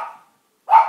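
A pet dog barks twice indoors, one short bark fading out, a pause, then a sharper, louder bark close by, with no talking.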